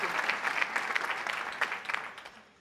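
A studio audience at a televised quiz show applauds with brisk, dense clapping that holds strong and then gradually thins and fades toward the end.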